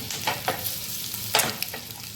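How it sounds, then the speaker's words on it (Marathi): Eggs frying in a pan for Maharashtrian egg masala, a close steady sizzle broken by a few sharp scrapes and spatula knocks, with no talking. "आता आपण भाजून घेऊया"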